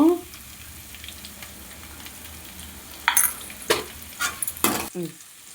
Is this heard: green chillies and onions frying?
yes